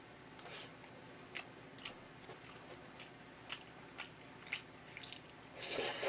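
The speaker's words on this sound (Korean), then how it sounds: "비비고에서 나온 즉석 잡채밥. 잘 먹겠습니다." Someone eats Bibigo instant japchae rice, with faint, close, wet chewing and soft clicking bites repeating at a loose rhythm, ending in a louder rustle.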